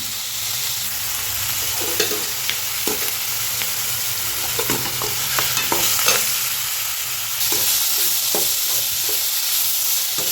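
Ginger sizzles in hot oil alongside curry leaves in a pan while a spoon stirs it, giving steady frying hiss broken by scattered scraping clicks.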